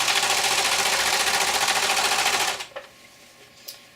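Serger sewing machine stitching fabric at high speed, a dense rapid whirring buzz that runs steadily for about two and a half seconds, then stops abruptly, followed by faint small clicks and handling noises.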